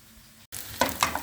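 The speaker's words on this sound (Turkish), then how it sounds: "Bu şekilde ara ara karıştırarak soğanlarımın karamelize olmasını bekliyorum." Onions caramelize in oil that sizzles steadily in a pan after a brief silence, with a few louder bursts as they are stirred.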